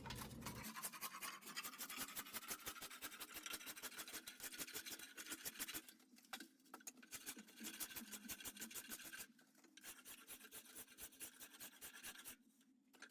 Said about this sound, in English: I then use a spoke shave to clean up all the marks from the rasp.